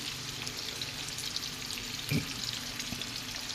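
Bottle gourd, brinjal, onion and tomato frying together in oil for sambar, a soft, even sizzle with one brief louder clatter of stirring partway through.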